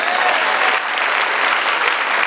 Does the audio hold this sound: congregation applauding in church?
yes